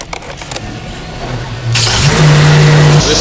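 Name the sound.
2008 Range Rover L322 engine starting and revving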